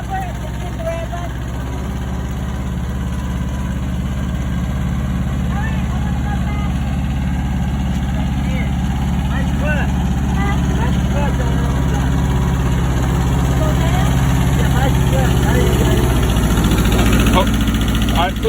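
A tractor engine idles and runs steadily up close, a constant low rumble with slight vibration that rises a little in load toward the end, while people talk over it.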